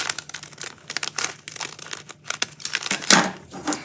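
Scissors cut through paper along a drawn line for a fourth-grade craft bag, giving a run of close, crisp snips and papery crinkles in an uneven rhythm with no talking.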